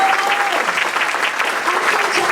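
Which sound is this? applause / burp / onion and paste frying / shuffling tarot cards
applause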